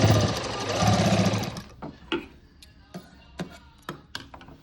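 A sewing machine stitches a straight line on a cut work blouse patch, running in a loud continuous whir for under two seconds, then stopping and giving way to a few sparse clicks and handling knocks.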